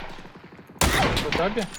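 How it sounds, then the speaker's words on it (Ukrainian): Sudden burst of rapid gunfire in the video game PUBG, loud and close, cutting in abruptly after a quieter stretch of in-game ambience and continuing with repeated cracks to the end. "О, по мені вже стріляють."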